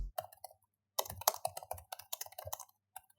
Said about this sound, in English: Now here's how this keyboard sounds.